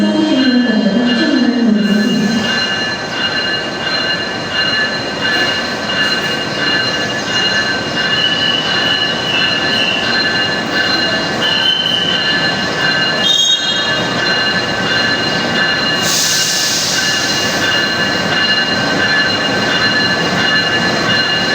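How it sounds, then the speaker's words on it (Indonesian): The Wijaya Kusuma passenger train rolls slowly into Ketapang station, wheels squealing loudly against the rails, with steady mechanical rumble and a brief hiss of air near the end. "di sini kita saksikan momen lansiran kereta api Wijaya Kusuma di stasiun Ketapang"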